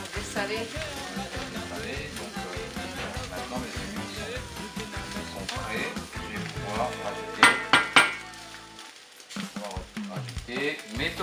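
Onions frying briskly in a hot pan for a salt cod rougail give off a steady, loud sizzle. A few sharp utensil clinks ring out near the end before the hiss eases and returns.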